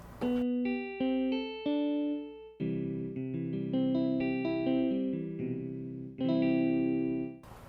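Guitar notes and chords, played on a piano keyboard as a sample with no attack, start at full volume with no swell, playing a short melodic phrase alone, clear and close.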